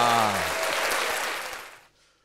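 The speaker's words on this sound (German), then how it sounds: "kann man Applaus haben?" Applause from a podcast's live audience: a dense, steady wash of clapping with a voice briefly audible at the start, fading out near the end.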